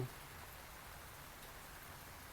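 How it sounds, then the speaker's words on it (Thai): Heavy rain falling on a greenhouse with a plastic-sheet roof during a windy storm: a dense, even hiss of drops, steady and soft, with no voices. "ตอนนี้ฝนกำลังตกอยู่นะครับ"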